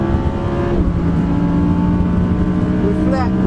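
Audi R8 V10 Plus racing flat out down a drag strip against a GTR, its engine roaring loud and close in a steady sustained drone with rising harmonic whine, a brief gear-change dip near the start.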